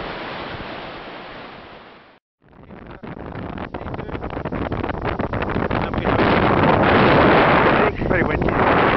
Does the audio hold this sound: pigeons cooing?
no